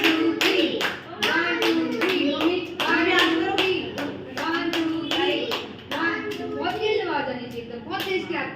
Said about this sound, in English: Now 3 times clap करेंगे.